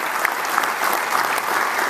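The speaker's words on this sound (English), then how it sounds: "We'd like to give them a round of applause." A grand opening audience at a Salvation Army center breaks into a round of applause, with steady dense clapping that fills the whole stretch, loud and close.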